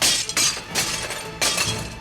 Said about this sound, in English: Every time I hear the crash, it's almost as if there's no other sound except my dreams dying, one plate at a time.